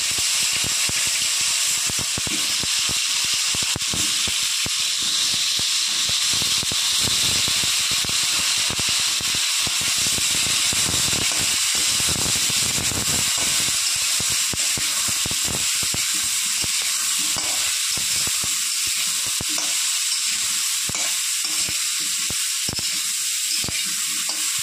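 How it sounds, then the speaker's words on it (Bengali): Cauliflower pieces frying lightly in oil in a pan after an egg: a loud, close, continuous hiss and sizzle with dense crackling that runs unbroken throughout. "ফুলকপিগুলো আমি হালকা ভেজে নেব।"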